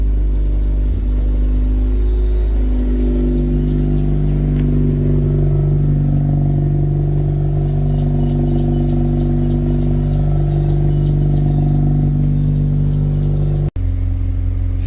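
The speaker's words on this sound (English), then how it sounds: "Obviously warming up," A Mazda RX8 rotary engine idles steadily while warming up, a constant low rumble with a faint repeating high chirp overhead, close and unchanging until a brief dropout near the end.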